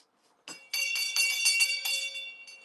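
A small bell rings repeatedly close by, a run of bright, shimmering rings one after another with a faint clink at the start, heard alone without talk.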